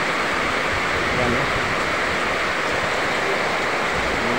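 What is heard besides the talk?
rain falling during flood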